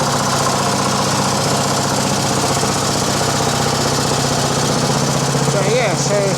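A 1950 Clifford A3 rotary cultivator, a walk-behind tractor with a 6hp JAP engine, runs close by with a loud, steady, rapid chugging throb, while someone talks over it.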